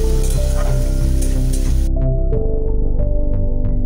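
Ginger, tomato and green chili paste sizzles and spits in hot oil for about two seconds, a steady hiss under background music, then abruptly stops and leaves only the music with a few light taps.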